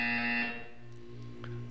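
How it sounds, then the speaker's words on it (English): A loud electronic buzzer from the Portal 2 video game, a harmonic tone lasting about half a second before fading into lower droning tones and faint chimes. "When you hear the buzzer, look up at the ceiling."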